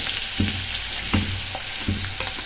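Onion and green chilli paste sizzles steadily in a pan, a constant hiss broken by a few regular thuds or stirring scrapes.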